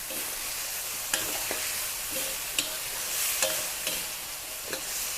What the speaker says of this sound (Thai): ก็จะมีพริกอ่อนนะคะหอมใหญ่ค่ะ ใส่ลงไปจ้า ผัดค่ะคลุกเคล้านะคะ